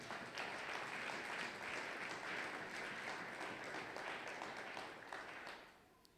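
Church congregation at a Sunday worship service applauds for Jesus, a dense, sustained wash of clapping that holds steady for several seconds and then fades out.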